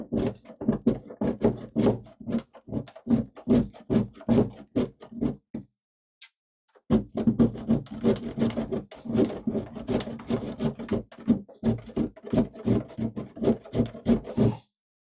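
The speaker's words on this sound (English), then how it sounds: "So I'm going to grate some, and we'll see how much we get anyways." Beeswax being grated by hand on a food-safe grater, a close, rapid run of rasping strokes that pauses for about a second before resuming in the same steady rhythm.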